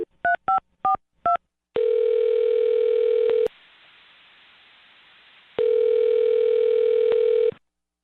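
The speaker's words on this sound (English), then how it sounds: "I'm going to dial his phone number right now" A telephone call: four quick dial-tone beeps as a number is keyed in, followed by two long, loud ringback tones separated by a stretch of quiet line hiss.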